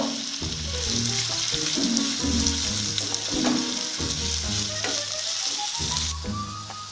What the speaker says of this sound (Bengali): আদা বাটা রসুন বাটা এটাকে ভালো করে কষিয়ে নেব